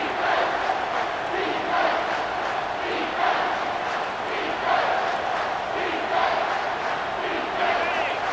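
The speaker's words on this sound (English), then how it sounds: "Here comes this home crowd as the defense tries to get off the field on third down." A home crowd roars steadily at a college football game between Arkansas and Utah, a sustained loud wall of cheering and yelling with rhythmic swells as the defense faces third down.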